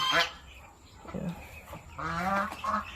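Farm geese honk in loud nasal bursts, a couple of calls at the start and a longer run toward the end, close by with faint background noise.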